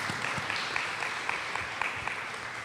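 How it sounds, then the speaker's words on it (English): Applause at a community meeting on gun violence strategies, a sustained patter of clapping from a gathered audience, moderately faint and steady throughout without speech. "Let's give them a round of applause."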